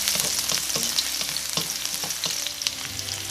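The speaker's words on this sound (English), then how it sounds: "Give it a good mix." Garlic frying in a pan for chicken tikka masala is stirred, with a soft continuous sizzle under a series of quick scraping strokes roughly twice a second, close up and with no voices.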